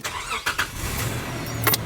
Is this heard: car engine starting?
yes